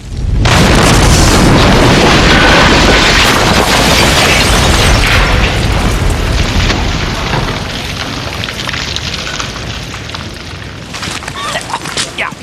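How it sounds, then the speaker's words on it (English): A loud explosive charge detonates with a heavy, sustained boom that fills the space, then a long rumbling decay that slowly fades, in a test of 10 mm thick glass at the Burj Al Arab tower. "Well, that was quite a big bang."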